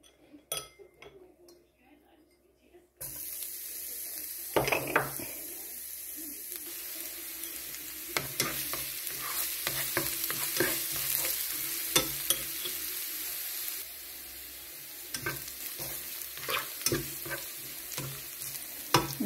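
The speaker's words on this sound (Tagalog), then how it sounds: "Lagay na natin yung bawang." Garlic sizzling and frying steadily in hot oil in a home kitchen pan, with intermittent stirring clinks of a utensil against the pan after a short quiet start.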